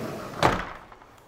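A sliding window door panel in a window showroom glides along its track with one short rumbling slide and soft knock, close by and alone.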